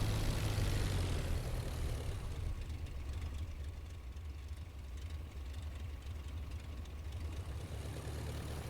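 Propeller airplane engine in the IL-2 Flying Circus combat flight game, a continuous loud droning rumble that eases slightly from its opening level and holds steady with a rough, throbbing texture throughout.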